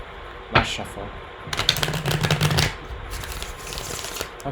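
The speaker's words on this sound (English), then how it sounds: "Last shuffle." Playing cards being riffled and shuffled in several quick bursts, close up, with brief pauses between the rattling flurries.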